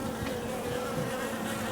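Bees hum steadily and close by as they gather at water on a car floor mat in a garden. The buzzing drones on without a break, with no voices over it.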